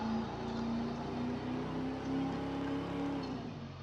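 A car with an automatic gearbox accelerating, its engine tone holding steady and rising slightly as it pulls away, heard from inside at close range.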